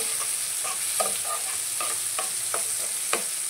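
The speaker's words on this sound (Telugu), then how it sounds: "పసుపు వేసుకున్నాక ఇలా తిప్పుకోవాలి. ఇలా తిప్పుకొని మగ్గిందా లేదా నూనెలో చూసుకోవాలి." Tomatoes with turmeric fry in oil, a steady hiss of sizzling broken by a rhythmic series of short scraping stirs of a spoon against the pan, close and fairly loud.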